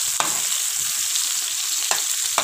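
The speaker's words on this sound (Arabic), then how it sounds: "انا بشوحه في معلقه زيت ذره" Sausage sautéing in a spoonful of corn oil sizzles steadily and fairly loudly, with a few sharp scrapes or taps from stirring. There is no talking.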